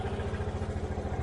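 A cold 1986 Honda TRX 70 ATV engine runs just after a pull start, putting out a quick, even low putter that is close and moderately loud.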